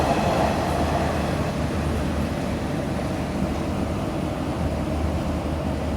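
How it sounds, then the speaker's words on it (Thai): An Alsthom 4411 ADD diesel locomotive of 2,400 horsepower hauls an express parcel freight train past a level crossing north of Ban Pong station, a steady close rumble of wheels and wagons rolling by throughout. "นี่นะครับผ่านไปแล้วนะครับสำหรับขบวนขบวน พัสดุนะครับสินค้าพัสดุห่อส่งด่วนนะครับ"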